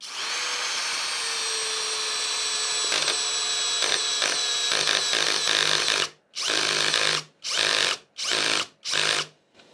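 Parkside Performance PBSPA 12 C3 12V cordless drill driving a screw: a steady close whine that turns into several short pulsed bursts with silent gaps between them, and no talking.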